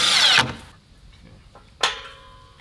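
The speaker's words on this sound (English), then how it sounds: "If I just drill this gate hinge" A power drill drives screws into a gate hinge in two short bursts, a loud high whine at the start and another brief burst near the end, with quiet between.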